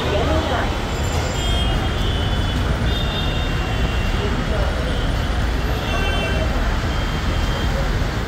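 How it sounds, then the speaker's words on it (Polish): Dense street traffic of tuk-tuks and cars in India rumbles continuously while several horns toot intermittently, with engines and voices blending into a loud, chaotic roar. "Tuktuki, chaos, wszyscy trąbią."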